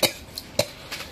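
A person coughs three or four times in short separate bursts, the first and third loudest, heard close in a quiet room.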